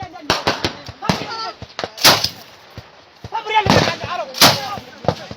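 Gunfire on a battlefield during Fano fighting, with repeated sharp cracks and heavier booming shots at irregular intervals, loud and near, while voices shout in between.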